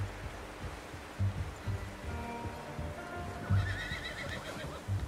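A horse in the video game Red Dead Redemption 2 whinnies with a drawn-out neigh, over scattered hoof clip-clops and soft outdoor ambience, heard fairly close.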